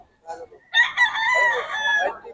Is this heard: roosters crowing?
yes